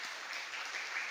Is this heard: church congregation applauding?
yes